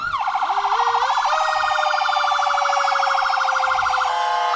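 A Burnsville Engine 2 paramedic unit rolls in a fire muster parade, its siren loud and close as it winds up and then holds a steady, fast warbling wail that changes pitch near the end.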